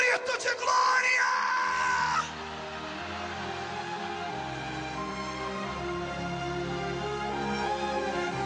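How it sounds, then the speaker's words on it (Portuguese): Church congregation shouting a cry of glory together, a loud burst of mixed voices yelling at once that settles into a sustained crowd roar with organ or keyboard tones underneath. "Quem crê nisso, dê um grito de glória."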